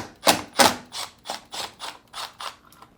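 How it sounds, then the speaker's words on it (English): A Phillips screw being backed out of the plastic hinge cover on top of a Whirlpool French door refrigerator: about eight close, rhythmic ratcheting clicks, the first ones loudest, tapering off toward the end. "remove the Phillips screw and plastic cover over the hinge"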